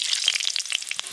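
Pumpkin pieces for a mashed pumpkin dish hit hot oil in a pan, giving a short, bright crackling sizzle with quick spitting pops, close up and without any talk.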